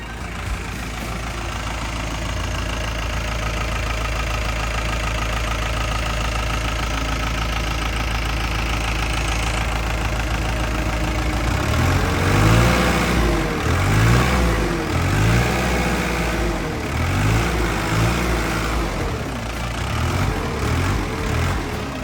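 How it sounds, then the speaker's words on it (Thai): A heavy diesel engine of a Komatsu WA100-5 wheel loader runs loudly and continuously, idling with a rough rhythmic knock that grows a bit fuller partway through. "เสียงเครื่องยนต์นะฮะก็ทำงานได้แน่นดีมากๆด้วยนะครับ"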